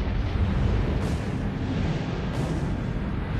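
A deep, rumbling roar of an explosion, sustained and heavy throughout, with a low booming swell and no voices.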